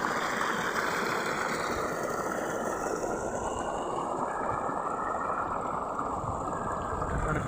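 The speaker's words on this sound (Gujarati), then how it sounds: "જોઈ શકો પાણી પડે જોરદાર" Water from a running borewell pump gushes out onto a village farm's mustard field for irrigation, making a loud, steady, unbroken rush of splashing water that continues throughout with no voices.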